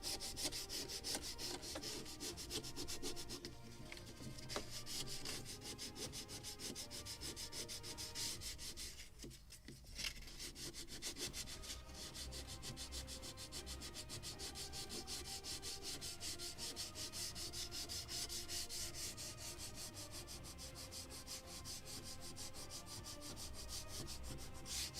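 Steady, continuous rubbing of sandpaper on the wooden deck of a model of the 1776 gunboat Philadelphia, close and even throughout, with only a brief pause near the middle.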